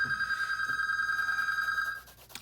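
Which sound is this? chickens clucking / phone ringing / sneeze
phone ringing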